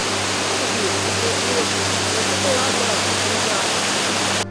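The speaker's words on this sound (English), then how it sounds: "It is the point where water stream overflowing from Fewa Lake suddenly collapses and surges down the rocks into a deep gorge" Patale Chhango (Davis Fall) in Nepal, where water overflowing from Fewa Lake crashes down rocks into a deep gorge, giving a steady, dense roar of falling water that continues without a break and cuts off abruptly at the end.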